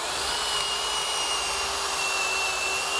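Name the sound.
laser guided drill boring a hole into log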